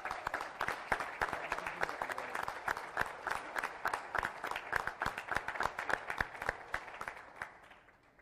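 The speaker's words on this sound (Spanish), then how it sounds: "Un aplauso, por favor." Audience at an international forum on Costa Rica and Asia-Pacific applauds with loud, distinct claps in a steady patter that gradually fades out toward the end.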